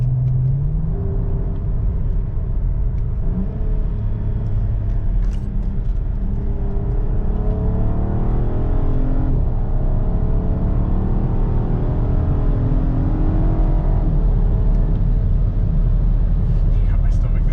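A 2010 Volkswagen Passat R36 accelerates hard on a test drive, its engine a steady loud rumble that rises through the gears from inside the cabin, with occupants talking over it.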